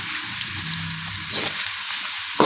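Chopped onions browning in hot oil as the base for a fish korma, a steady close sizzle and crackle with no talk, ending in a brief louder pop.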